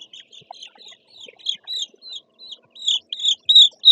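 Nine-day-old chicks peep at feeding time, with high, repeated chirps that grow denser and louder toward the end. The chirps are close and there is no talking.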